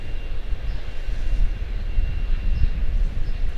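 An American Airlines Airbus A319 jet roars at Charlotte-Douglas International airport, giving a steady, loud, low rumble that stays constant with no talking.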